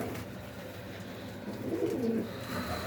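Soft pigeon coos murmur through steady low background noise, a few throaty calls rising slightly louder near the middle.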